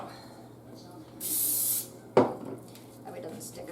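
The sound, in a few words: spraying cooking spray on spoon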